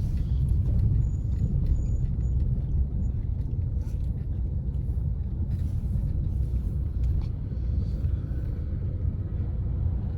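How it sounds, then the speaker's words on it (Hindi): A car rolls downhill on its own on a mountain road, producing a continuous low road-and-engine rumble with wind buffeting, steady and close throughout, with no talking. "कार तुम्हारे अपने आप चल रही है"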